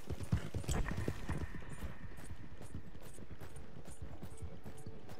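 Hooves of a horse ridden along a trail on a quail hunt clip-clop at a steady walking rhythm, fairly close but soft, with faint rustling.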